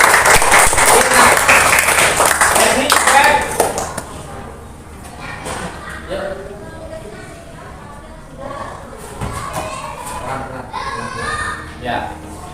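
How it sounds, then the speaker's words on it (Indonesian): A class of children claps loudly for a pupil after a gymnastics roll during a school lesson, a dense burst that fades after a few seconds into chatter and children's voices. "Beri tepuk tangan untuk Ilham ya"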